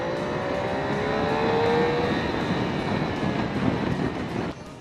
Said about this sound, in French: On prend plaisir à relancer le 3 cylindres entre deux virages, simplement pour l'écouter.